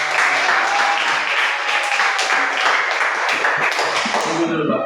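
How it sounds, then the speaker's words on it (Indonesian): Audience applause in an Indonesian classroom teaching session, a steady burst of clapping at close range that holds for about five seconds, with voices and a faint tone mixed in, fading only at the very end. "Tepuk tangan."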